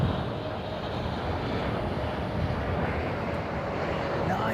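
A Qatar Airways airliner arrives at Heathrow on a windy day, with steady engine roar mixed with gusty wind rumble throughout, fairly loud and continuous.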